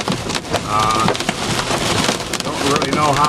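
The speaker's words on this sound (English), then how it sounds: "we have run into the hail." Hail drumming steadily on a car during a storm chase, a dense rattling patter filling the clip from start to finish while someone talks over it.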